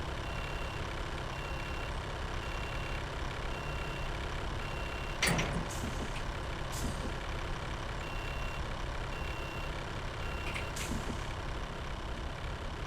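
A truck in the Car Dealer Simulator video game, with a steady low engine rumble throughout, a sharp hissing burst like an air brake near the middle, and a faint intermittent high beeping that comes and goes.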